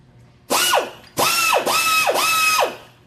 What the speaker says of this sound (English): come in and actually grind this piece square, 90 degrees, just like that